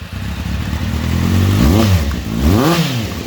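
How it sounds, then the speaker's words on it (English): A Kawasaki Z800 motorcycle engine with an Akrapovič exhaust revs twice, a raspy steady idle rising into two sharp blips that climb and fall back, loud and close with no talking. "It is a nice raspy engine."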